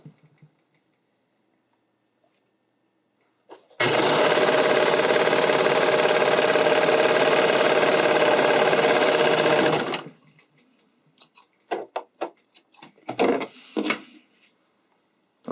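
A sewing machine stitches a stretch structural seam on a skating dress in one loud, steady burst of about six seconds, then falls silent, followed by scattered handling clatter.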